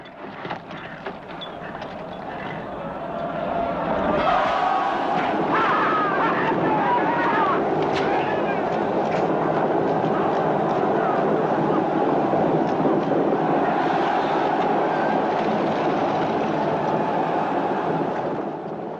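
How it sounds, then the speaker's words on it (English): A 1950s film chariot race with a dense, sustained roar of horses' hooves, a cheering crowd and rattling chariot wheels. It builds after a few seconds into a loud, continuous rumbling wash with no music. "The horses' hooves, the cheers from the crowd, the rattle of chariot wheels"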